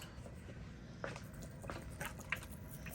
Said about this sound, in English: So now basically what I'm gonna do is just moisten it with water.